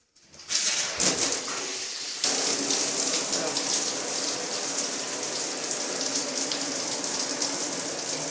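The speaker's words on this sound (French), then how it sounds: "Par contre, l'eau, il n'y a pas beaucoup de pression." A low-pressure tap or shower in a holiday apartment on Saint Lucia turns on after a brief pause, then water runs in a steady splashing hiss, close and continuous, with a few faint chirps in the background.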